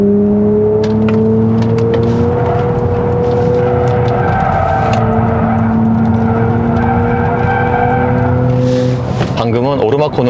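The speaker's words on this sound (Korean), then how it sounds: "방금은 오르막 코너를 스포츠 모드로 돌았고요." Genesis GV60 Performance, a 2026 facelifted electric SUV, taking an uphill corner in sport mode, with steady low road and motor hum, tyre noise and a faint whine under continuous talking, building slightly near the end.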